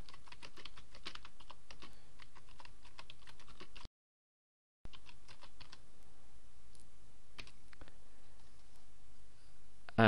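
Fast, continuous typing on a computer keyboard, a close, crisp stream of key clicks in bursts, briefly cut to silence partway through before resuming.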